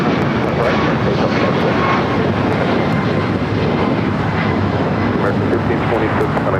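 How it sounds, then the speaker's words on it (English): An Austrian airliner takes off from runway 25 right on the south side of LAX with a loud, continuous engine roar that holds steady throughout. Radio chatter is heard over it. "Austrian up next for takeoff here on the south side."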